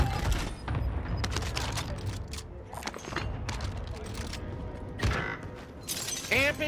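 Video game gunfire crackling in rapid bursts and shattering impacts, with several players talking over the shots throughout.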